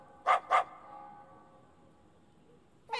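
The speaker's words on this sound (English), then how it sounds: "Hey, isn't this Rita's dog?" A small dog, Rita's little companion, gives two quick yips in close succession, fairly loud and near, then falls quiet before a brief bright sound at the very end.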